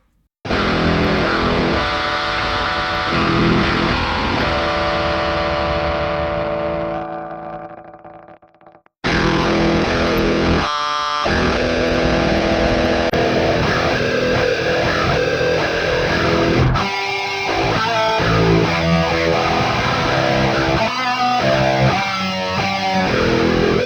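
A heavily distorted, sludgy guitar plays very low, thick chords, fading out, then returning with chugging, rhythmic breakdown riffs, loud and saturated throughout, almost synthesizer-like.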